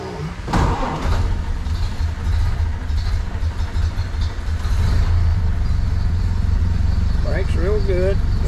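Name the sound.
1931 Ford Model A sedan delivery engine starting and running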